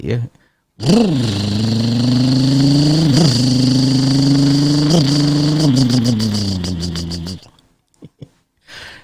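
A person's voice imitates a motorcycle engine, a loud buzzing drone rising in a quick rev then holding steady with small wobbles before cutting off.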